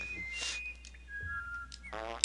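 Short whistled tones in a Dr. Seuss-themed video game, a few thin notes sliding up and down over a soft hum, ending with a rising whistle and a small pop, with a faint voice murmuring underneath.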